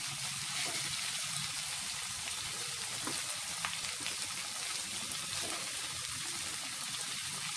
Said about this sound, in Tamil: தக்காளி சேர்த்து கத்திரிக்காய் கூட லைட்டாக வதக்கி விடலாம்.